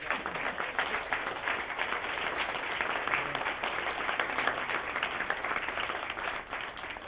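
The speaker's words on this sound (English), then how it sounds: "I think we should all give them a round of applause right now" Wedding guests applaud during the reception toasts, a dense, steady wash of many hands clapping that holds at an even level throughout with no voices on top.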